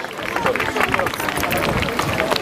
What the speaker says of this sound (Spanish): Un fuerte aplauso, menuda regata nos han dado los dos equipos.